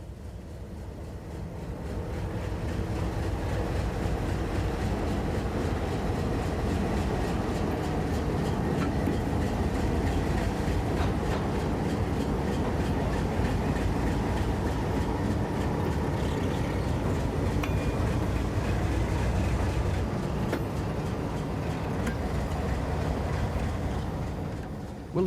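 An Alco RSD-15 diesel locomotive rumbles steadily nearby, a deep continuous engine drone with faint rail clatter, holding level throughout.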